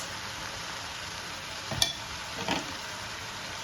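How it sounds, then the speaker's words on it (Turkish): Onions and spinach frying in a pan while being stirred, a steady soft sizzle with two brief scraping stirs standing out near the middle, close and without talk. "karıştırıyorum soğanlar yanmasın diye"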